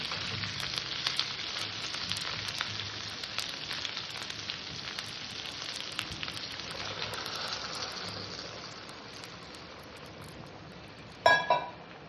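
Water poured into a pan of fried spiced tilapia curry with green banana and potato, a soft crackling sizzle that gradually eases, ending in a short sharp clatter, with no one speaking.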